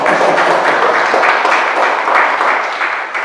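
An audience applauds at a film screening event, with dense, loud, sustained clapping that holds steady throughout and tapers only slightly toward the end.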